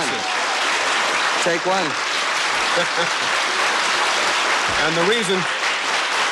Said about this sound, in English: the reason the audience applauded is every time Michael said take one